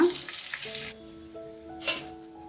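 A layered wheat-flour snack fries in a pan with a loud sizzle that cuts off abruptly after about a second. Quieter kitchen sounds, tonal hums and a brief rustle follow.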